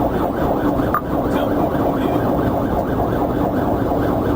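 A loud police car siren wails continuously in a rapid rising-and-falling pattern, close by, over a steady rumble of road noise.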